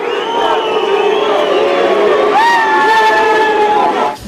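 Crowd in a neighborhood jeering as police withdraw after more than a day of clashes, a loud, close mass of shouting voices with rising whistles and cries running throughout.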